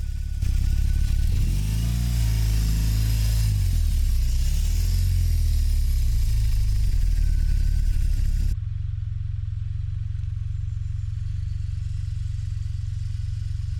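BMW R18 motorcycle riding on the motorway, its engine droning loud and close with rising revs and wind rush for about eight seconds, then dropping to a steadier low rumble.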